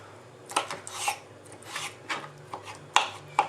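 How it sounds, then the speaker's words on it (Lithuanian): A knife cuts kiwi into small pieces on a cutting board, with a series of irregular, close, crisp chopping strokes and faint rubbing between them. "Pjaunam kivį mažiukai gabaliukais."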